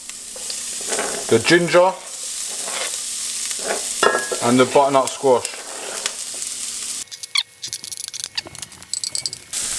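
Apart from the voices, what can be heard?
vegetables frying in a pan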